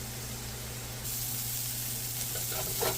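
Curry paste frying in hot oil in a home kitchen, a steady close sizzle and hiss that grows louder partway through, with no talk over it.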